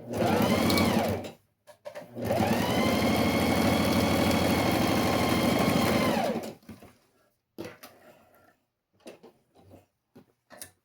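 A sewing machine topstitching a seam on a homemade school pencil case: a short burst of steady whirring stitching, a pause, then a longer continuous run of several seconds, close and loud, ending in quiet handling noises.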